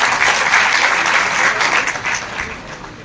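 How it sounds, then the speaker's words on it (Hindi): A crowd at a welcome event for a Uttar Pradesh minister in Bareilly claps loudly and continuously, a dense wash of applause that tapers slightly toward the end. "लोगों से आग्रह है, एक बार जोरदार तालियां हो जाए"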